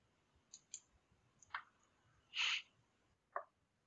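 Mouse clicks in GeoDict simulation software, a few light, quiet clicks spread across several seconds, with one longer, louder click-like burst near the middle and no talking.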